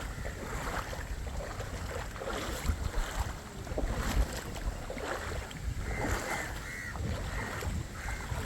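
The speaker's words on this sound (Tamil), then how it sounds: "குளிர்காற்று அடித்து கொண்டு இருக்கு" Cold wind gusts steadily outdoors near the flooded Kannagi Amman temple at Vattappalai, a continuous broad rushing roar that buffets the microphone, with no voices.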